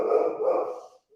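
A Great Pyrenees dog gives a single deep, drawn-out bark, close and fairly loud, fading out after about a second.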